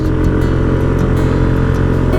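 Motorcycle engine labouring hard up a steep mountain road, a loud, close, continuous low drone with steady throttle strain and no pauses.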